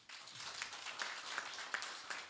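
Light applause from a small audience at a refugee response programme session, a soft scattered patter of claps with a few sharper hand strikes, fairly distant and quiet.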